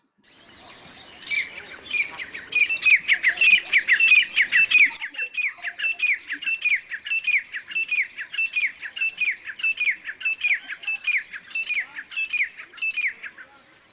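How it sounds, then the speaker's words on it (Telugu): A grey francolin calling, a loud, close series of rhythmic, repeated ringing notes that builds after a brief start and continues in evenly spaced bursts to the end, with no other voices. "Okay, grey ఫ్రాంకోలిన్."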